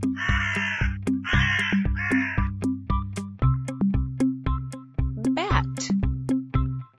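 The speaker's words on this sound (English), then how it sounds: "Crow." Three loud crow caws ring out near the start of a kids' animal puzzle video game, over a steady rhythmic game music loop with percussive beats and a brief rising chime.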